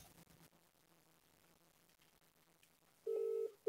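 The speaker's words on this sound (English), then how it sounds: "No, it's still ringing." A telephone ringback tone plays on a call, a faint hum and muffled background at first, then a loud steady ring burst near the end followed by the start of another.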